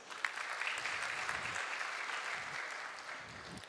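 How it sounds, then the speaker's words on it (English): A hall audience at a pharmacy college event gives a steady round of applause for the dignitaries, a dense, even patter of clapping that holds for several seconds. "Let us welcome all dignitaries with a big round of applause."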